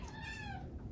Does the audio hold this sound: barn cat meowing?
yes